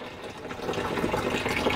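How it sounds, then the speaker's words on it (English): Water fills the tub of a Panda XPB36 portable washing machine with a steady, moderate gushing and splashing, close by and without talk. "All right, so the water's filling in there."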